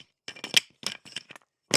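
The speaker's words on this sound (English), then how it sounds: "We're going to drop some tiles. And then maybe a few little clicks and clacks with the" Game tiles dropped and clicked against tile stands for a sound-effect recording, a few short sharp clacks and rattles in close, dry bursts separated by silence.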